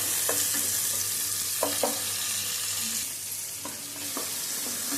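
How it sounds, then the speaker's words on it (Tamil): Tomatoes and onions sautéing in a pan for a bonda kulambu, a steady bright sizzle throughout with a few soft spatula scrapes and stirs over it. "தக்காளி வெங்காயம் வதங்கிட்டு கொஞ்சமாக கல்லுப்பு போட்டுக்கிட்டேன்"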